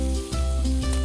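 Spices fry with snake gourd (chichinga) and shrimp in a pan, giving a loud, close, continuous sizzle with a couple of brief stirring bursts.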